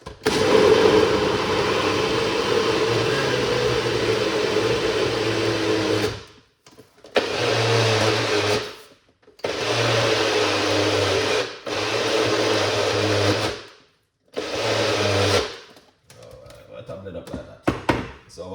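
An electric blender whirs loudly in several bursts while green juice is made, its motor drone starting and stopping with short pauses between runs, and faint talk near the end.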